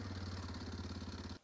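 A 2025 Kawasaki KLX230R dirt bike engine idling nearby, a steady even low thrum with a regular pulsing rhythm, alone, until it abruptly cuts off.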